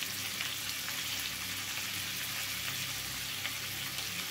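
Cauliflower fry is stirred slowly in a pan, giving a soft, continuous sizzle with faint scraping, steady and fairly quiet throughout.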